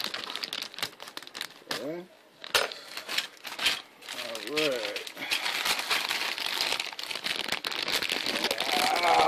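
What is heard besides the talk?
opening a plastic bag of model kit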